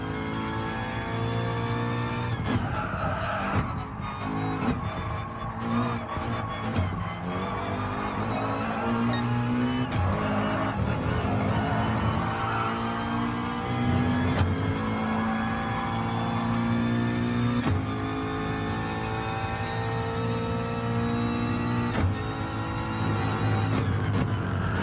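Racing car engines roaring and revving continuously in Gran Turismo Sport on the Red Bull Short Ring, loud and sustained with rising and falling pitch as cars race close together.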